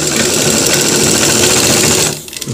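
A sewing machine runs steadily, stitching a double seam along a trouser cross pocket, a loud, continuous motor whir that cuts out near the end.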